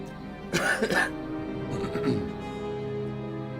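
A pair of throaty coughs up close, followed by a softer raspy cough, over a faint steady hum.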